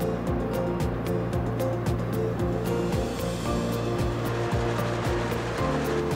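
Weaving machines in a textile mill run steadily, crossing the threads with a loud, continuous mechanical clatter and regular rhythmic beats throughout, no voices on top.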